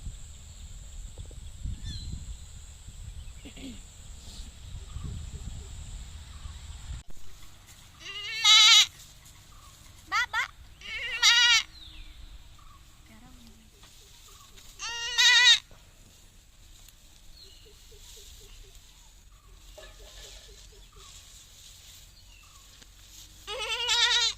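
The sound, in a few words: goats bleating in tea plantation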